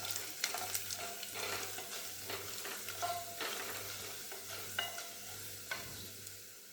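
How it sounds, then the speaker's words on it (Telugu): Mustard seeds, cumin, chana dal and urad dal sizzle and crackle in hot oil in a pan, a steady close frying hiss broken by small pops and stirring scrapes, with no talking. "ఒక హాఫ్ స్పూన్ ఆవాలు, హాఫ్ స్పూన్ జీలకర్ర, హాఫ్ స్పూన్ శనగపప్పు, హాఫ్ స్పూన్ మినప్పప్పు వేసుకొని కొద్దిగా వేగిన తర్వాత"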